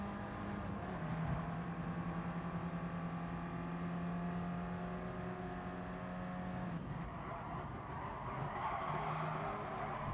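Car tires skidding and squealing through understeer in the Gran Turismo Sport racing game, with a steady engine drone and sustained tire scrub that shifts and breaks off near the end, loud and continuous with no talk.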